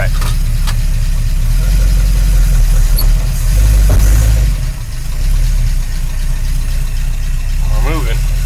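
A 1953 Oldsmobile Rocket Super 88 barn-find car runs loud and close with a strong low engine rumble as it starts moving, the note dipping briefly midway; people talk over it.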